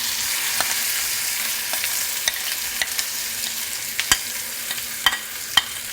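Radish chutney is stirred into a hot curry-leaf tempering in a pan: a steady bright sizzle fills the clip, with scattered spoon taps and scrapes against the pan, no voices.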